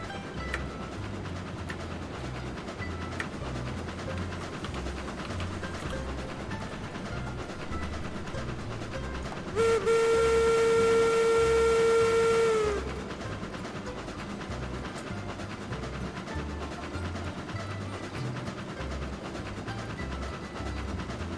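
Freight train cars being hauled in the RAILROADS Online video game: a steady rumbling rail bed runs throughout, with a loud tonal whistle-like burst sounding for a few seconds midway before the rolling noise continues.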